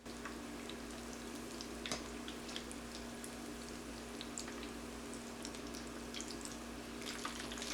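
Jamaican dumplings stuffed with ackee and saltfish fry in a pot of oil, giving a faint, steady sizzle and bubbling hiss that runs evenly throughout with no talking.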